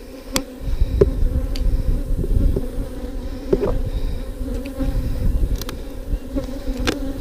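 Honeybees buzz loudly and steadily at an open hive during an inspection of a notably aggressive colony, a dense close swarm drone with scattered clicks and knocks from handling the box.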